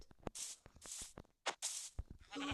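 A ram in a video game bleats in several loud, broadband bursts, with short gaps and a brief tonal sound near the end.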